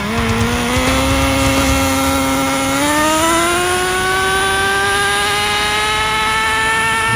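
An 18-year-old Traxxas T-Maxx nitro RC truck with its small engine screaming loud and close, the high buzzing whine holding steady and then climbing smoothly in pitch as it winds out.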